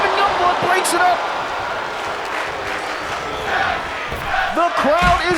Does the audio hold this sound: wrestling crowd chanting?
yes